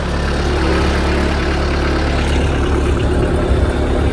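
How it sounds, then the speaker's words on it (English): A small Kubota B3300 B series compact tractor engine runs steadily at idle, a continuous low, even rumble that stays constant and fairly loud throughout, with no talking. "this is my little Kubota tractor. It's just a B series tractor, B3300"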